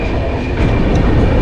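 The Dhauli Express rolls into Belda station with a loud, dense rumble of wheels and carriages close by, a continuous clatter that swells slightly partway through, with no voices.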